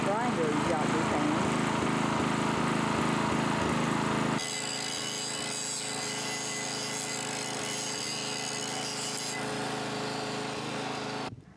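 Generator running while powering a small grinder, a loud buzzing engine with rapid pulses for the first few seconds, then dropping to a steadier, quieter hum.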